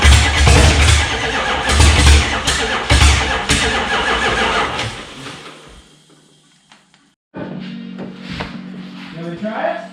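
A Dodge Challenger under restoration cranks and tries to fire, with loud rhythmic starter churning and bursts that fade out, then a short pause before a rougher mechanical rumble resumes.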